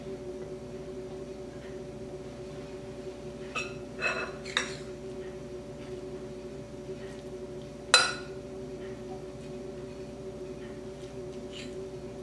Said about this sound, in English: I'll place it back in my casserole dish.